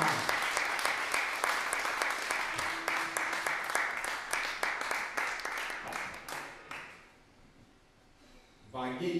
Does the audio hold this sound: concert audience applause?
yes